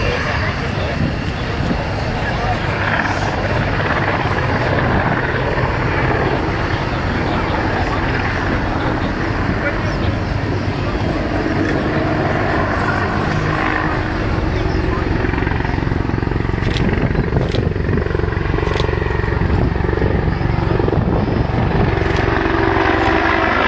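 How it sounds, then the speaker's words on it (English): A loud, continuous Apache attack helicopter engine roar with rotor thrum during an air show display at RIAT 2012, steady throughout, with a crowd or announcer voice faintly underneath. "the Apache is not just a powerful attack helicopter"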